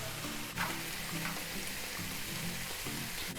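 Carrots and hot peppers fry in a pan for a vegetable noodle dish, giving a steady, even sizzle and crackle throughout with no voices.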